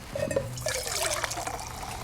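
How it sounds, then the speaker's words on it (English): Water pours and trickles into a pot set on a wood-burning backpack stove, a steady close liquid splash with small gurgles running the whole time. "We'll go ahead and put some water in here and boil her up"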